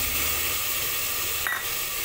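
Onion, tomato, ginger and garlic fry with spices for khichuri, a dense, steady sizzling hiss close by with one brief flare of spattering partway through.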